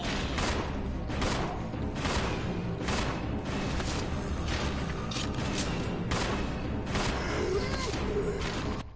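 Repeated gunshots in the Resident Evil Zero video game ring out in a loud, rapid series of sharp blasts layered over dense game noise and mechanical clatter, roughly one shot every second.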